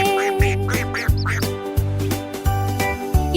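A duckling quacking in a quick series of short, bright calls over a backing of cheerful children's song music with a steady thumping beat.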